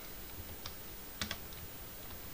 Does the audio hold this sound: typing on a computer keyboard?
yes